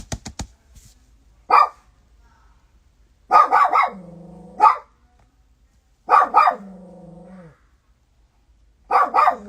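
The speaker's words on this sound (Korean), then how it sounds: "막 밖에 사람 소리 들릴 때마다 이렇게 짖는데 어떻게 해야 되지?" A dog barks indoors in short bursts of two or three sharp barks separated by quiet pauses, some ending in a low drawn-out growl-like whine, fairly close, with no talking.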